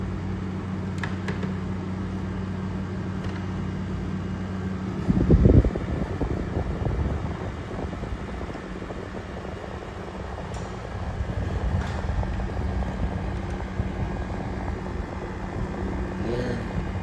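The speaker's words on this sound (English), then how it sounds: "I love this air conditioner." A 2023 General Electric 5,000 Btu window air conditioner running with a steady fan whir and low hum, a brief clunk midway, continuous and close.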